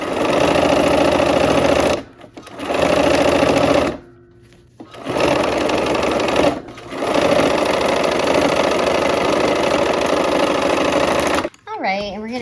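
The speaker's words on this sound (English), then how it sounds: "let's go ahead and sew that seam" A sewing machine stitches a quilt seam on an aqua sky-blue piece in fast, steady mechanical bursts, stopping briefly twice before running on at length, close and loud, then a short pause and a faint voice at the end.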